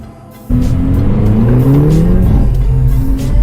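A car engine revs hard and loud close by, the exhaust roaring and rising in pitch before settling back.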